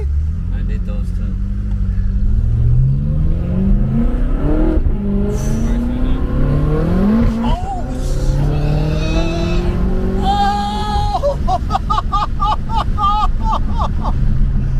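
A heavily modified 1150+ hp BMW with a full titanium exhaust revs hard and loud nearby, engine pitch sweeping up and down through repeated climbs, ending in a rapid sharp crackle, with people talking over it.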